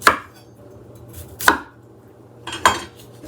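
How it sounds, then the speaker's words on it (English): Three distinct knife strokes on a cutting board as the ends are cut off a raw, peeled beet, each a sharp close thunk with a short scrape, spaced about a second apart in a quiet kitchen. "So now I'm going to get my cutting board, and I'm just going to slice the ends off."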